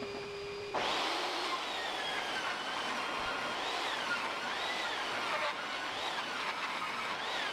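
A table saw rips a 2x4 board lengthwise along the fence, its steady loud whine starting abruptly after a brief pause and holding with slight pitch wavers as the blade cuts through the wood.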